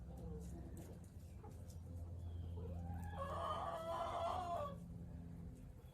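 A hen being dosed with Duravet medicine lets out one drawn-out, strained squawking call near the middle, close by, over a low steady background hum.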